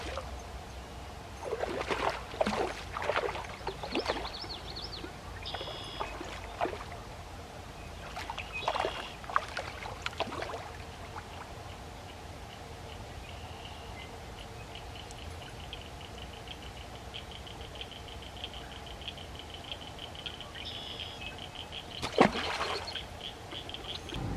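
Outdoor wetlands ambience in Ohio country, with water sloshing and splashing in intermittent close bursts, like paddling or wading, over a quiet background and a faint insect-like drone.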